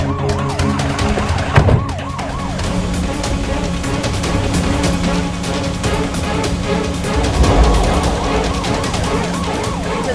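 A police car siren wails continuously at close range, its rising and falling tone sweeping steadily for about ten seconds with engine and traffic rumble beneath.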